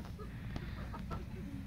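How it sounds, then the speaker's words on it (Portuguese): Chickens clucking on a small farm while pecking at hay, with ducks and a duckling among them: soft, scattered clucks and short calls against a low, steady background, fairly distant and faint. "agora até os marrecos e o patinho acharam ali o feno para ficar com as galinhas"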